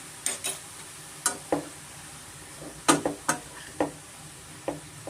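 A spoon scrapes and taps repeatedly against a pan as grated carrot fries in ghee for carrot halwa, giving irregular sharp stirring clicks over a soft sizzle.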